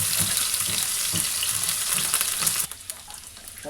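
About two onions frying in oil with ginger and garlic paste, stirred in the pan: a close, bright sizzle with scraping stirring strokes that drops to a quieter hiss near the end, no talk.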